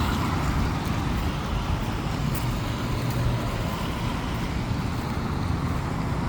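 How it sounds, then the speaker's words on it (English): Loud cars and trucks pass on a city street near a sidewalk, producing a continuous, heavy roar of traffic noise that stays close and steady with no talking. "But also back to big loud cars, so that's less good for me."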